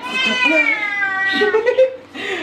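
A house cat meows loudly and close, a long drawn-out wail that bends in pitch, followed by shorter cries, in a kitchen while a meal is being cooked.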